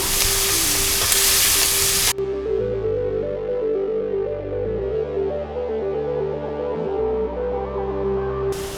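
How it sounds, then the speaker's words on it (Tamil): Onions sautéing in a pan with salt and turmeric, a continuous loud hiss of frying close up with a steady hum running beneath, no voices. "நல்லா இதை வதக்கி விட்டுடலாம்"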